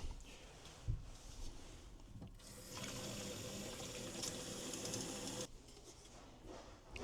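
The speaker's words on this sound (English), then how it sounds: "Then you put some water in there." Water runs and splashes into a spray bottle for a homemade mouse repellent, a steady pouring hiss lasting a few seconds after a brief clunk, fairly quiet and close.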